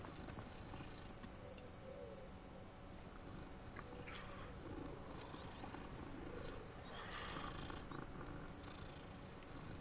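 Low, steady purring from a cat in Hogwarts Legacy, a continuous soft rumble that runs the whole time under a broad layer of game ambience, with no voices.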